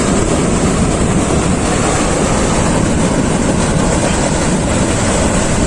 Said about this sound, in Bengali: দারুণ ঢেউ আসছে, এটা এনজয় করো।